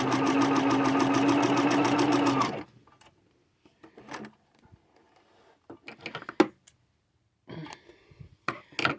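Sewing machine running a steady rapid stitch for about two and a half seconds, loud and close, then stopping, followed by sparse clicks and light handling noises.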